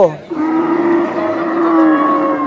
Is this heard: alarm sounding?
no